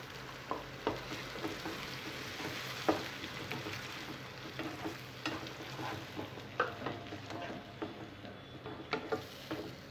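Tomato paste frying in a pan for a tomato egg curry, a soft steady sizzle under light scattered taps and scrapes of stirring, close and faint.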